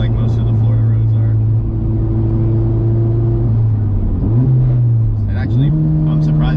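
A K-swapped Porsche on 305 rear tires accelerates hard on a grippy, gritty Florida road, its engine drone rising in steps through shifts, loud and close with a steady rumble under people talking.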